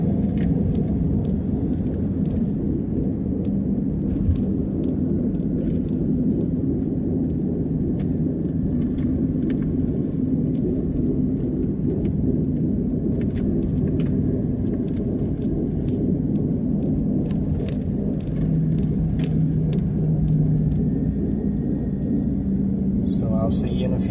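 Steady interior road noise from a car driving along rural Peel Dogwood Road in the Daniel Boone National Forest area: a continuous low rumble with faint occasional ticks and rattles.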